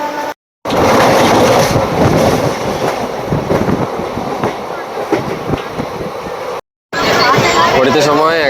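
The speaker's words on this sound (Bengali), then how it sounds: "হাওড়া স্টেশন থেকে ট্রেন ছেড়ে দিয়েছে।" A train leaving Howrah station runs with a loud steady rumble and rhythmic clatter of wheels, with people talking over it and two brief silent gaps.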